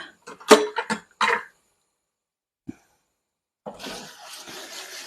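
Hot water runs from a kitchen tap into a chocolate-coated mixing bowl, a steady, splashing rush that starts after a few short knocks and a quiet pause and continues to the end.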